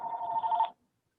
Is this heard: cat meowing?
no